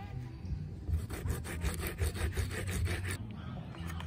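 Coconut is grated by hand on a natural grater, producing quick repeated scraping strokes close by, fairly quiet, ending in a short pause.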